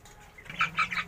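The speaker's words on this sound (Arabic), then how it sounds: "هوريكم بقى الفراخ اللي هي عمر السمان دلوقتي اهي" Young chickens and quail chicks in a backyard coop give a few soft high peeping chirps over a low background hum, heard briefly and fairly close.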